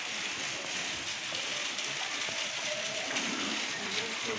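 Steady rain falls outside in a continuous hiss, close and even, with no talking.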